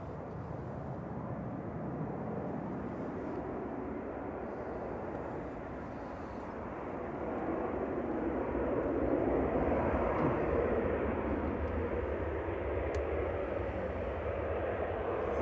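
A Malta Air Boeing 737-800 airliner at Manchester Airport gives a broad, distant jet roar that swells gradually toward the middle and then holds as a steady rumble.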